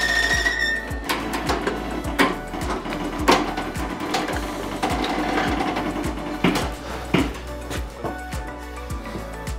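A beam lift is cranked down during a house renovation, giving a rapid, regular mechanical clatter of ratcheting gears, close and fairly loud with some irregular knocks throughout.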